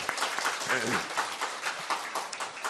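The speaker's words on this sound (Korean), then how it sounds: "우리 성가대에서 박수 한번 부탁드리겠습니다" A church congregation applauds the choir with a dense, steady roar of clapping that fills the room, while a voice talks briefly underneath it.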